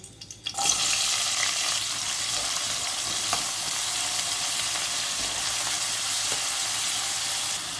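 Onions and shahjeera hit hot oil in a pan for chole masala, bursting into a loud, steady sizzle after a brief quiet start and holding a dense crackle throughout with no voices.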